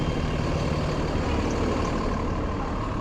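A city bus on a Brooklyn street in Borough Park rumbles close by, a loud, steady diesel drone filling the air with no pauses and no voices over it.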